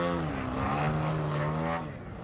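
Remote-controlled model airplane flown by a champion pilot, a whining propeller engine buzz that rises and bends in pitch as it passes, fairly close and then fading slightly away, with no talking.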